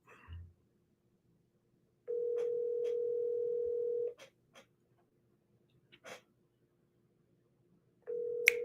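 An outgoing telephone call rings back with long, steady two-second tones separated by silence, heard close and clear, with a few faint clicks and a breath between rings.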